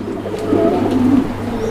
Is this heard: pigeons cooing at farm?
yes